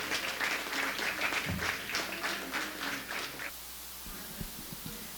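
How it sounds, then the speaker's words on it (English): A crowd applauds the Miss Ilocandia queen at an evening pageant event, steady clapping for about three and a half seconds before it fades and thins to a few scattered claps. "Please give her a round of applause,"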